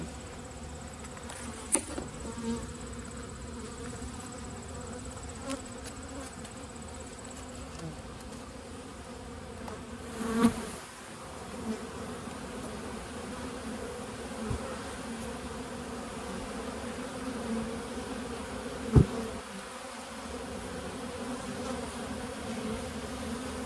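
Bees hum in a continuous low drone around an opened hive during a cool-weather fall inspection, with a few sharp clicks and knocks from handling the hive frames.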